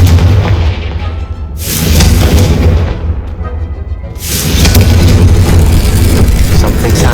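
Confringo fire spell exploding in Hogwarts Legacy, loud booming blasts with a rumbling low roar that swells, eases and swells again, dense and close.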